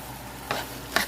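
Corn with chives in a frying pan gives a soft background sizzle, broken by two brief stirring scrapes close to the pan.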